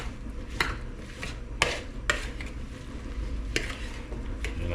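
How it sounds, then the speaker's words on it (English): Cornmeal mix stirred in a pot to coat and separate pieces for chicken dumplings, heard as repeated scraping and clinking strokes of a utensil against the pot at an uneven rhythm, close and moderately quiet. "we're going to put cornmeal mix in here. And stir that around"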